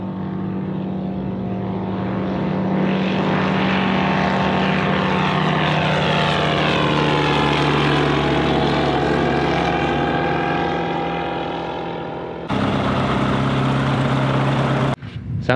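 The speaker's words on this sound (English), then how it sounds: "Sounded like the engine was running smoothish." An old Freedom Fox ultralight aircraft engine running on its old carburetors gives a loud, steady, droning buzz that swells in pitch, then cuts abruptly to a different tone near the end before a brief dropout.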